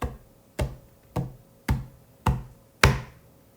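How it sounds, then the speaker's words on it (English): Footsteps in a cartoon story: six evenly spaced, sharp thuds, each with a short fading tail, walking at a slow steady pace close by. "Pretty soon they heard footsteps"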